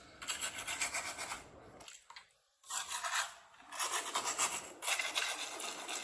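Brush scrubbing custom Crocs clean, steady close rasping strokes in bursts with a brief pause partway through, moderately quiet and with no voices.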